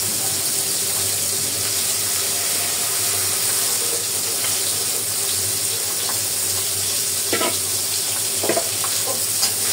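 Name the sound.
fish frying in a pan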